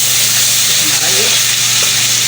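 Garlic-ginger paste fries in a hot pan for chicken with turnip (shalgam chicken). It makes a loud, steady, close sizzle and hiss with no pauses.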